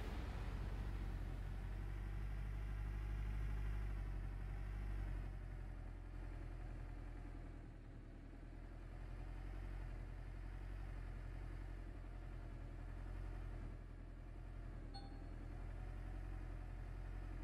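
Vehicle engine idling in the Gold Rush: The Game video game, a steady low rumble that holds for the whole stretch with a slight dip midway, with no talk over it.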